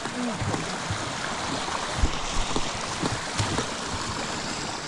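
Steady rushing water from a small waterfall on the Stokhid river in winter fills the scene, a constant close splashing roar with occasional louder splashes.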